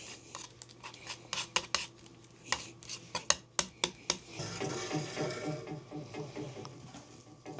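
A curing compound is stirred in a container for a home-built 15m Yagi antenna, with a series of sharp scraping clicks and taps, followed by a steadier swirling rustle, close and fairly quiet.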